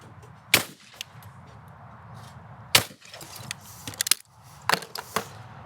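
A Browning Ultra XS Pro shotgun fired at clay targets outdoors, two sharp loud reports a couple of seconds apart, followed by quieter mechanical clicks and handling sounds over low wind noise.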